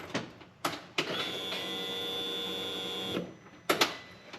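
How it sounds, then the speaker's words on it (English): A Polaris RZR fuel pump's steady electric whir starts after a few clicks as the key turns on, runs for about two seconds while priming, then stops, followed by more clicks. "So right there it tells me this fuel pump is getting power itself"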